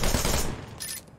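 Gunfire from a character shooting out of cover in the action game Wanted: Dead, a dense, loud burst of rapid shots lasting about a second before cutting off, with no talking.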